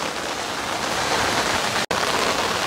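Steady autumn rain pours onto a garden of datura and angel's trumpet plants, a dense, even hiss of drops on leaves and surfaces throughout, broken by a brief silent gap.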